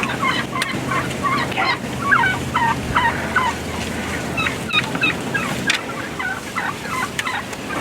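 Wild turkey toms gobble loudly and repeatedly in rapid, overlapping bursts while fighting, several birds close by, with thumps and scuffling in between and no voices.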